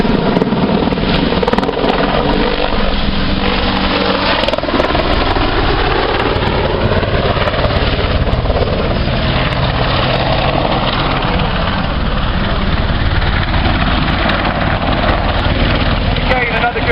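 An Apache helicopter's rotor thuds steadily and loudly along with a constant engine roar, close by and sustained throughout, with no pauses.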